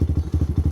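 Lifan KP Mini 300 motorcycle with a 4-valve ZS175FMN engine and upgraded carburetor idling close up, a steady loud low chugging pulse with rhythmic thumps and slight clatter, no voices.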